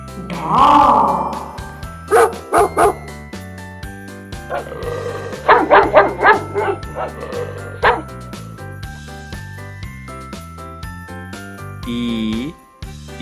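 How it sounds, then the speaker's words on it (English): A dog gives a series of quick barks and yips, loud and close, over a light tinkling children's melody, with a short whimper near the end. "D for dog."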